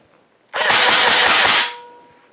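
An Evanix Speed air rifle fires on full auto, a loud rapid burst of about six closely spaced shots lasting roughly a second, followed by a short fading mechanical tail.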